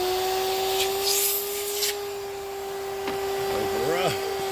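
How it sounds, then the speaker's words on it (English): A shop vacuum runs steadily and fairly loud throughout, a constant motor whine with airflow hiss, used while servicing a Chevy Silverado's air conditioning and air filter; some faint handling noises near the end. "I gotta turn on the vacuum."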